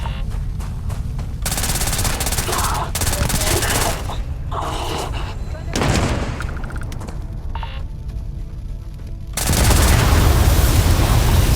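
Gunfire in Starfield rattles in dense automatic bursts mixed with single shots and booms, loud and close, pausing briefly before a heavier barrage at the end, with voices faintly underneath.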